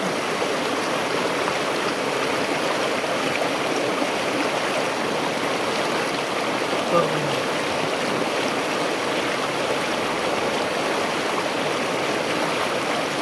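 The Temula River rushes past in a heavy, continuous roar of flowing water, broad and steady throughout with no pauses, loud and close.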